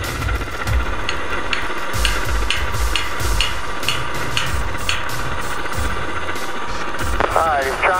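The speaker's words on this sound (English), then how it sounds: "he's trying for one bolt. He's hammering one in over there." A bolt is hammered in during a communications tower installation: sharp metallic strikes ring out in a steady, repeated rhythm at moderate distance, over a continuous engine hum.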